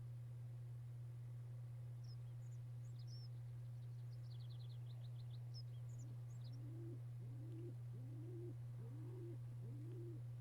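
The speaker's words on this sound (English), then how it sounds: "farmland at night, you can hear these birds, you can hear the dog" Birds call in the farmland at night in a Mount & Blade map, with high chirps followed by a series of soft, repeated dove-like coos over a constant low hum, faint and distant.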